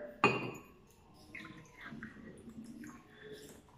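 Water poured into a drinking glass for a grade-school science experiment, a sharp splash at the start followed by a soft, trickling pour that continues faintly at close range.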